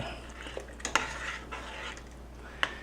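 A spoon scrapes and clinks softly in a pot of chicken and dumplings as cornstarch goes in, with a few sharp taps against the side over a quiet, steady kitchen background.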